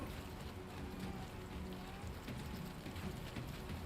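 Rain falls steadily in a video game, a soft, even hiss of drops on surfaces that continues without a break, faint and with no talking over it.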